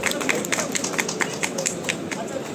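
An audience claps at a social workers' award ceremony in Odisha, with a brisk, continuous patter of many hands rising and falling over crowd murmur.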